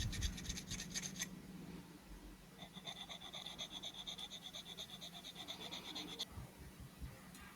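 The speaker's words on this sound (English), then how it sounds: "So after a bit of filing, smoothed out pretty well." Hand filing on a 1968 Mercury Cougar's rear bumper body, a steady raspy scraping in repeated strokes, close up, with a short pause partway and no talking.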